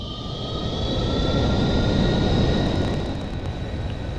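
Boeing 747-400 jet engines spool up for takeoff in the Aerofly FS4 flight simulator, a loud broad roar that swells steadily under a thin high whine and then eases slightly, with no voices.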